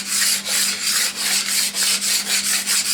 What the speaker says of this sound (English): It's a metal profile scraper, card scraper